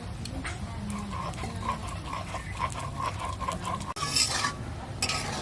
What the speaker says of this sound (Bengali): আমি এখনো চিংড়িটা বেটে শেষ করতে পারিনি